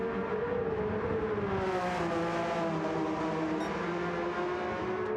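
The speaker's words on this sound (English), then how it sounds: "that's quite like what a Porsche sounds like on track" A Porsche race car engine in the Gran Turismo 7 video game, circuit Brands Hatch, holds a steady high-revving drone with a brief rising pitch shift, loud and continuous with no voices.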